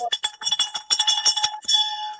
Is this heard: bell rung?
yes